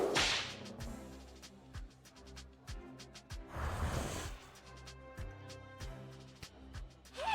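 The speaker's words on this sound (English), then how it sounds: "Peaches really responded well to the crack of the whip." A whip cracks repeatedly in a video game, sharp snaps landing in a steady rhythm over looping game music, with a brief whooshing burst midway.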